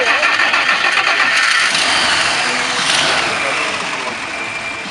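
A 1951 Pontiac Torpedo sedan's flathead six engine cranks and catches, roaring loud at first, then settling into a rough idle that gradually quiets.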